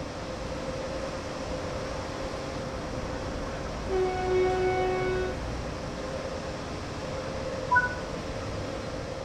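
Train starting to move in Train Sim World 3 on the Rhein-Ruhr Osten route in Germany: a steady low rumble of the locomotive with a soft tonal whine swelling midway and a short tonal blip near the end.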